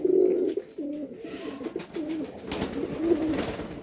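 A pair of white Lakkha (fantail) fancy pigeons coo in low, rolling phrases, close and steady, with soft rustling in the background.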